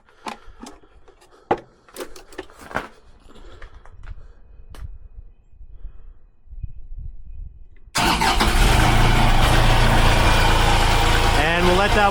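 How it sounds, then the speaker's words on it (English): A sawmill engine cranks and fires up on a below-freezing day, then settles into a loud, steady idle after scattered clanks and knocks. "Up here, what we're going to do, we'll fire up the engine."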